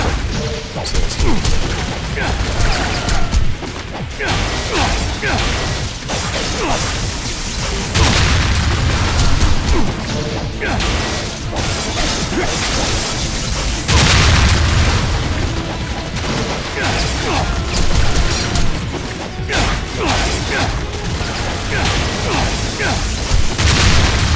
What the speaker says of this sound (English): don't let them shoot at you because they don't stop shooting